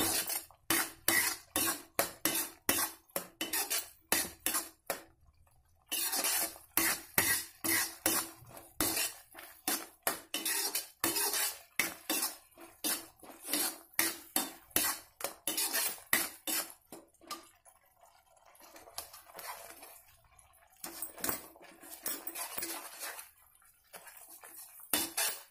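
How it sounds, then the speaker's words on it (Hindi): Masala spices roasting in a pan while being stirred with a metal spoon, a rapid series of sharp scraping clinks against the pan, pausing briefly and slowing toward the end. "हमारा मसाला तैयार हो रहा है, भून रहा है।"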